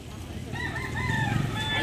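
A stag rooster crows loudly and nearby at a gamefowl sale in Carbon market, Cebu, its drawn-out call rising over a busy background of murmuring voices and other clucking fowl.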